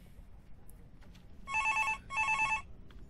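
A telephone rings twice in the Get Stuffed video game, two even trilling bursts over quiet, low background hum, with nothing said.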